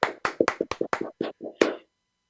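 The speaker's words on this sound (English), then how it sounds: "Give it a round of applause for Grandma Clark." About a dozen separate hand claps ring out close by in an uneven rhythm, then stop, leaving silence.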